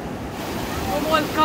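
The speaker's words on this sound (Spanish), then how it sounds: "Este es el Océano Atlántico, Lisana." Atlantic Ocean waves washing onto the shore at Punta del Este, a steady broadband surf roar with wind buffeting the microphone, rising slightly toward the end.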